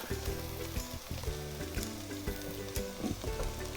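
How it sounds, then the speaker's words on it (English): Ground beef sizzling and frying in a pan with sauteed garlic and onion, a steady close crackle broken by a few stirring scrapes and no voices. "now that our garlic and onion is sauteed properly, we're gonna add our ground beef"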